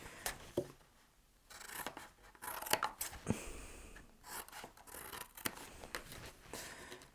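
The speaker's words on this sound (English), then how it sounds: "I'm just cutting a couple of these with the V's out" Scissors cut V shapes out of scoreboard panels for a wine box, faint close snips and rustling card in uneven bursts, with pauses between the cuts.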